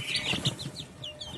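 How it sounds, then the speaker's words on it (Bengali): Young native chicks chirping and clucking as they feed, a flurry of quick high peeps close by, with soft pecking and shuffling underneath. "দেখো আমার মুরগি বাচ্চা সব খাবার খাচ্ছে।"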